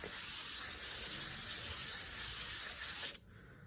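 A knife scale block is rubbed back and forth on an abrasive surface, giving a steady, close, hissing scrape for about three seconds before it stops abruptly.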